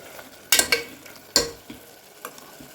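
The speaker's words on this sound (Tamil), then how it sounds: "இப்போ நம்மளோட மசாலாவெல்லாம் சேர்த்து நல்லா கலந்து விட்டுக்குவோம்." Mutton curry masala being stirred in a pan, with a few sharp scraping strokes of a spoon against the metal over a soft sizzle, close and loud, with no talking.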